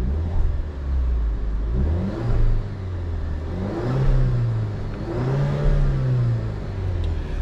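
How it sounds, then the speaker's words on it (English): A 2024 Alfa Romeo Giulia TI RWD engine is revved three times from idle, each rise and fall of pitch distinct and close, with no talk over it. "I will give y'all some revs so y'all can hear what it sounds like."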